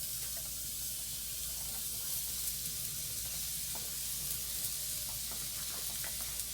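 Sliced white or yellow onion pre-fries in a pan for Janson's Temptation, giving a steady, fairly faint hiss of sizzling oil with tiny crackles throughout.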